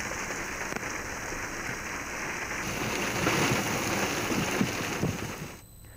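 Heavy pre-monsoon rain pours down steadily across a district in Nashik, a dense continuous hiss that swells slightly midway before cutting off abruptly.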